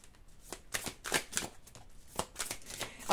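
Tarot cards handled and drawn from a deck, giving a run of soft papery swishes and slides in irregular bursts, close and fairly quiet, with no talking over them.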